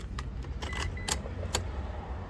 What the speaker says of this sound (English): Comes with an original Mitsubishi key, which is pretty cool.